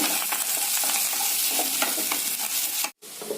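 Asafoetida roasting in hot oil in a pan with onions, a continuous crackling sizzle with stirring scrapes and a brief silent break near the end.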